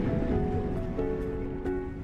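Ocean waves rolling against a prehistoric coastline: a continuous low, broad surf wash with gentle swells, steady and moderately loud with no talk.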